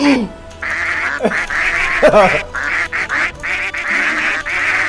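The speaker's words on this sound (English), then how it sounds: "when I press tab, it also does the quack" A video game duck quack sound effect, triggered by pressing a key, sounds several times as short nasal honks amid steady game background sound, with people talking loudly over it.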